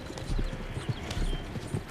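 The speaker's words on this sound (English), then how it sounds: "John, I'm riding with you." Horse hooves galloping in the Western video game Red Dead Redemption 2, a steady, loud clip-clop rhythm of repeated hoofbeats up close, with a faint whinny and no clear talk.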